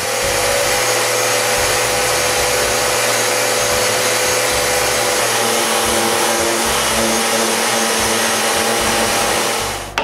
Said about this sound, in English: The next day, I sand and clean the excess glue.